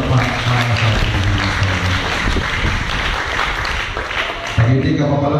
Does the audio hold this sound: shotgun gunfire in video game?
no